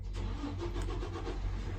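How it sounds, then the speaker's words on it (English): A car engine cranks and catches close behind a person outdoors, then settles into a low, steady rumble for a couple of seconds with no voice heard over it. "excuse the noise of the truck car behind me"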